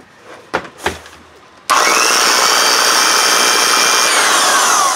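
A Skilsaw model 77 worm drive circular saw, American-made and showing motor sparks, starts after a few handling knocks and then runs loud and steady with a harsh, close whine.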